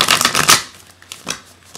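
An oracle card deck, the Sacred Rebels Oracle, being shuffled by hand: a quick flurry of papery riffles followed by a few softer, scattered card slides.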